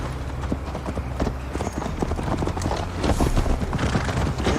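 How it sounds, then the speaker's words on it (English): Horse hooves clip-clop at a steady ride in the video game Assassin's Creed Valhalla, the rhythmic thuds close and clear over a low background rumble. "Mount up, Eivor. It's a long ride to Tamworth"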